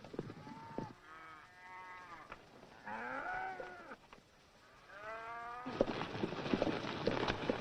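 Cattle moo repeatedly, several long drawn-out lows overlapping from a nearby herd, with rustling outdoor noise rising toward the end.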